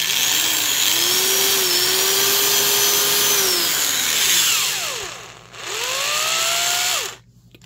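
A Harbor Freight Performance Tool 3/8-inch variable-speed right angle drill runs close and loud with a whining, gear-rattling motor, its pitch wavering and dipping as speed changes before it spins down and stops.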